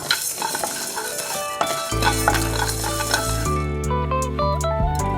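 Fenugreek seeds dry roasting in a pan for homemade sambar powder, stirred with light scraping and rustling that runs steadily beneath background music, with no talking.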